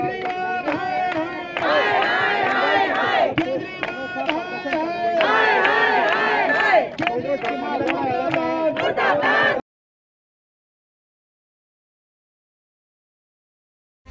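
Congress protesters rally against the government, and a crowd shouts rhythmic slogans loudly and close up in bursts of massed voices for about ten seconds before the sound cuts to silence.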